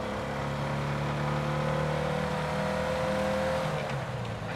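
A 60-horsepower Porsche 356 B engine downshifting while driving in traffic, a loud, steady close-up engine drone whose pitch shifts as the gear changes, with no voices.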